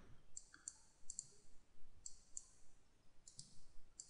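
Light, crisp computer mouse clicks come in small irregular bursts, some doubled, against a quiet, faint background with no talking.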